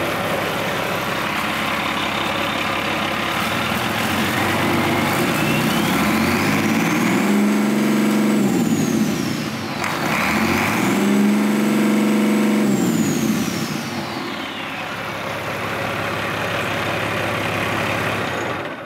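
A running engine, checked for crankcase blowby, is given two wide open throttle applications: the idle climbs to a loud roar, drops back, surges again, then settles to a steady idle, with no talk.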